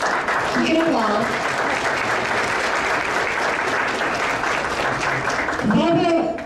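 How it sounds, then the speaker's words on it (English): A crowd at a ceremony honoring senior volunteers breaks into sustained, loud applause for an honoree, dense clapping that carries on steadily while a voice speaks over it at the start and end. "Give it a applause."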